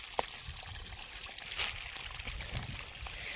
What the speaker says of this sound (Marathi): आपण आता पूर्ण बागेला पाटाद्वारे पाणी सोडलेलं आहे